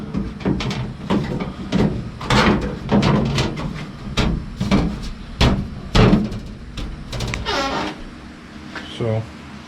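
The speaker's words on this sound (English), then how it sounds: "Door shut's good." Door of a 1949 Jeep Willys pickup being shut, a few sharp knocks and thumps spaced through the stretch, close by and loud, with someone talking around them.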